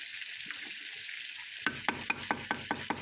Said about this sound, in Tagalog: While nag-fry po ako sa pork chop